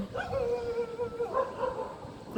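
A dog barks and yips in short repeated calls, fairly close, on a cold, windy morning outdoors with no talk over it.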